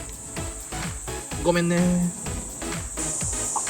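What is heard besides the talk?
higurashi cicadas and other cicadas chirping in summer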